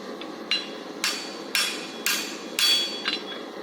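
Hammer forging hot metal on an anvil while making blacksmith tongs, six or seven sharp ringing blows at a steady half-second rhythm, close and fairly loud.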